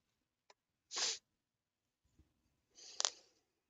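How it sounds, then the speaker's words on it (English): Two sharp sneezes close to the microphone, about two seconds apart, with near silence around them and no talking. "sorry about the sneezing"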